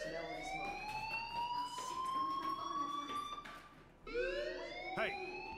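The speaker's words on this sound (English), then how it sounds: "do you hear that fire alarm?" A fire alarm in the video game Life is Strange wails in long, loud, steady electronic tones with a brief break before it resumes, the siren alone with no voices.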